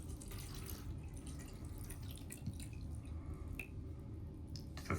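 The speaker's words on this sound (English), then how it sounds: "filling it up with water" Water poured from a bottle into a jewelry cleaner makes soft trickling and dripping with small splashes, close and quiet and continuing throughout.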